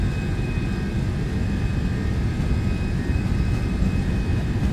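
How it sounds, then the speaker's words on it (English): Boeing 737 jet engines spooling at takeoff thrust in the X-Plane 12 flight simulator, a steady, loud roar with a faint whine on top that holds for nearly five seconds, with no talk. "Alright, set takeoff thrust."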